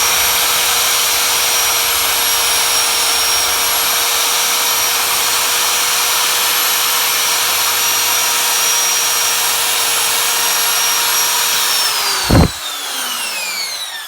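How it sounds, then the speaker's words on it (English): A power drill drills out a rivet on the brake of an Emmaljunga pram, a steady loud whine running for about twelve seconds before the pitch drops as the bit breaks through, with a sharp clunk and the motor winding down. "drilling out the rivet here on this other side"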